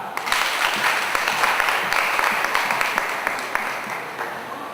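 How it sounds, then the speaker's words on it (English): A camp audience at an induction gathering gives itself a round of clapping, with dense, lively applause close by that swells and then gradually thins toward the end. "So I'd like you to give yourselves a clap."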